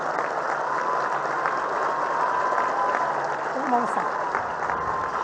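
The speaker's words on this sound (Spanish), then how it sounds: "Yo le pido un aplauso para la señora Claudia Sheinbaum." A crowd at a public event in Guadalupe Victoria, Durango, applauds in a sustained wash of clapping with faint voices and a whistle mixed in.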